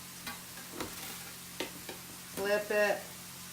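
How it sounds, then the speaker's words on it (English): A scoop flipping baked sweet potato fries on a pan, a few soft scraping and tapping strokes, with a brief burst of speech near the end. "you just take the scoop, flip it"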